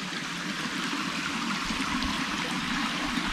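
A mountain stream at a campsite flows steadily, a continuous close rushing and gurgling of water with no other sounds.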